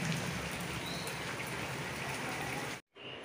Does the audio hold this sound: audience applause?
no